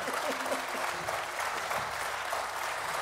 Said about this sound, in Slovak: Pre tento raz nám stačí váš jeden veľký potlesk.